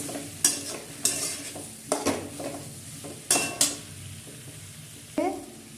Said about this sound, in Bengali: এখন আমি একটু ধনে জিরে গুঁড়ো দিয়ে দিলাম। এরপর এতে আমি একটু নুন দিয়ে দিলাম আর অল্প একটু চিনি দিয়ে দিলাম, দিয়ে ভালো করে মিশিয়ে নেব।